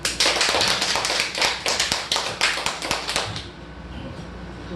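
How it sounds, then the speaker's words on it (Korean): A church congregation claps for a pastor in a burst of quick, fairly even claps that stays loud for about three seconds and then dies away into a quiet room. "박수 한번 쳐줘요"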